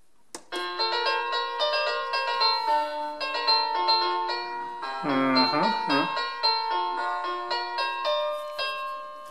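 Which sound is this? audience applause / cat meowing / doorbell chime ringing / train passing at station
doorbell chime ringing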